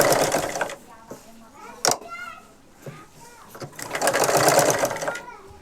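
A sewing machine runs in short bursts while stitching the side seams of a blouse, with a voice talking over and between the runs.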